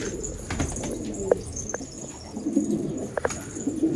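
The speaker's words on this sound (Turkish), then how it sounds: "burada gördüğünüz kuşlar hepsi bizim uçan kuşumuz zaten" Pigeons coo softly in a loft, a low murmuring flock close by, with a few sharper wing or perch sounds standing out over the steady cooing.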